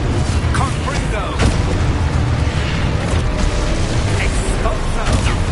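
A Confringo spell blast in Hogwarts Legacy, sounding as a dense, loud, continuous burst of fiery noise with brief pops and booms on top, with spoken incantations mixed in.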